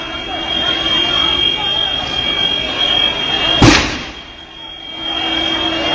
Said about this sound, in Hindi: भीड़ की आवाज भी आ रही है।